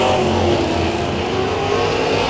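Race car engine roaring at full throttle on the Willamette Speedway oval during the Fire Cracker 100, a loud, steady, close drone with no pauses.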